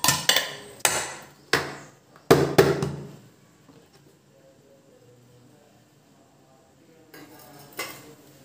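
Metal utensils clink and scrape against a pot and plate while jamun fruit halwa is moved onto a plate, several sharp close knocks in the first three seconds, then quiet, with a couple more clatters at the end.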